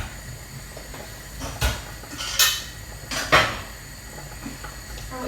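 A plate and pans are handled in a home kitchen while pasta with meatballs cooks, giving four separate sharp clanks and clatters over a quiet background hum.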